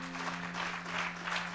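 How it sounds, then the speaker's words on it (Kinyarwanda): A crowd at a Rwandan event applauds a young Art Rwanda winner, fairly faint, even clapping that swells slightly in waves over a steady low electrical hum. "Mumfashe tubaha amashyi."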